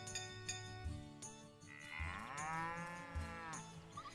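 A cow moos in a farming video game, Story of Seasons: Pioneers of Olive Town, one long drawn-out low moo rising mid-clip over steady game background sounds and soft clunks.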